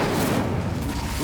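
In Hogwarts Legacy, an Incendio fire spell bursts out as a loud, continuous whooshing roar of flame with a low rumble, and a short voice-like call rides on top.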